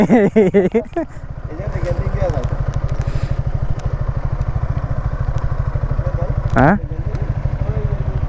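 A motorcycle runs with a steady low engine pulse throughout, close and fairly loud, while a rider speaks over it at the start and again briefly later.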